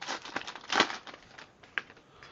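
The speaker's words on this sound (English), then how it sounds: "These packs are a little bit harder to open these days." Crinkling foil wrapper of a Donruss Elite hockey trading card pack being torn open, a few brisk crackling bursts up close, then quieter rustles with no talking.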